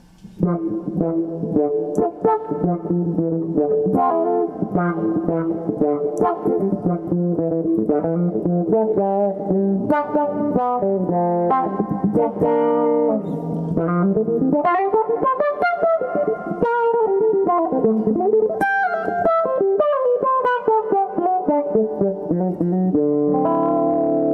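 Electric guitar played through a funky envelope filter, each note opening with a quacky, vowel-like sweep; continuous melodic noodling, close and prominent, no talking.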